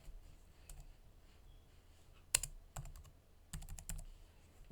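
Faint, close keystrokes on a computer keyboard while code is written in Visual Studio Code for an HTML, CSS and JS website, mostly in a few short bursts over a low background hum.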